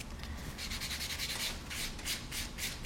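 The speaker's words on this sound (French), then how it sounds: "Ensuite, on prend le bloc sableur blanc." A white sanding block rubbed back and forth over a nail repaired with silk, giving quiet, close, rhythmic scratchy strokes in a steady series with no talk.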